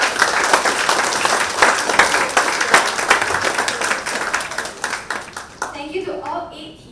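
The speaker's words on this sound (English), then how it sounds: "let's give a big round of applause" Broad, sustained applause from a crowd at a young founders' demo day pitch event, steady and fairly loud for several seconds before tapering off as a voice begins speaking.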